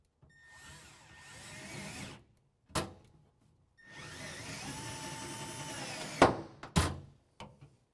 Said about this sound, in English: now using a 3/8 socket, we're going to use our provided self-tapping screws with washer and go right through those pilot holes to secure it to the floor of the bed